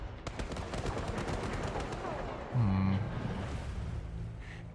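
Gunfire in a James Bond video game, a rapid close burst of shots in the opening seconds followed by a heavier low boom and fainter game noise, with a voice speaking briefly.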